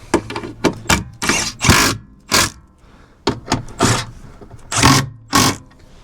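Bolts on a BMW X5 E70 front differential are run up with a tool, giving a series of quick, loud, close scraping and whirring bursts with short pauses between them.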